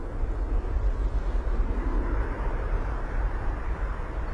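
An airliner lifts off at Bristol Airport, heard as a steady, broad engine roar at moderate distance mixed with gusty wind buffeting the microphone.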